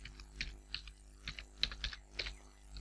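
Typing on a computer keyboard while entering a formula in MS Excel: soft, close key clicks tapped in an uneven rhythm, about a dozen strokes over a few seconds. No talking.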